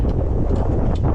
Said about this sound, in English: it's probably about 15 mile per hour wind out here, giving a gust